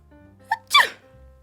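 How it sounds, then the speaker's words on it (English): A single loud, close sneeze voiced by a storyteller as the wolf, a short inhaled huff rising into a sharp bright burst that fades quickly, with quiet background before and after. "I sneezed a great"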